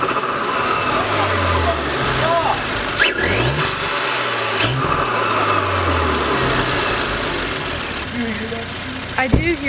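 An Audi S4 B9.5 with a newly installed intake revs several times, its engine note rising and falling in repeated sweeps over a steady idle, loud and close, with voices faintly in the background.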